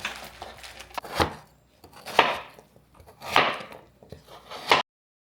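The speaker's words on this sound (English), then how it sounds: "These are the frozen strawberries. I'm going to give these a rough chop as well." Frozen strawberries being roughly chopped on a board, with four heavy, crunchy knife strokes roughly a second apart, each a loud close chop that fades before the next.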